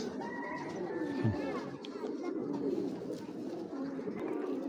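Pigeons of fancy breeds such as grizzles coo in soft, low, repeated calls nearby, with faint background noise around them.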